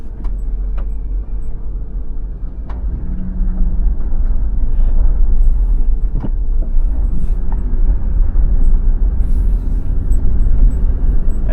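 A car rolls through the downtown of small-town Crawford, Mississippi, with a steady low road and engine rumble heard from inside, occasional light knocks and clicks over it, and no talking.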